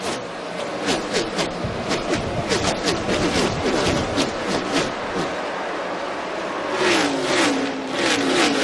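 NASCAR stock cars race at the 2014 Auto Club 400, a dense roar of engines with repeated Doppler sweeps as cars pass in quick succession, loud and continuous throughout.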